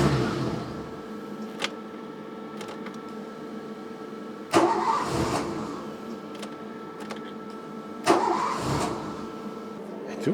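A Renault 25 V6 Turbo engine cranks and sputters, trying to start in two louder bursts over a steady mechanical rumble, without catching cleanly.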